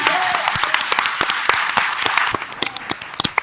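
A crowd applauding at a town board meeting, dense clapping that thins into scattered individual claps toward the end, with a voice briefly audible underneath.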